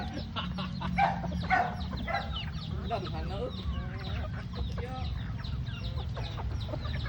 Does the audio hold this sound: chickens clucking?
yes